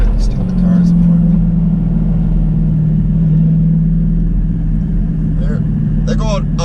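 A Dodge Challenger Hellcat cruising on the road gives a low, steady engine rumble heard from inside the cabin, with someone talking over it and brief clicks near the end.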